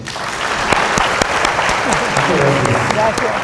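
Loud, sustained applause from an audience at an educational talk on viruses and pandemics, dense clapping with some voices mixed in.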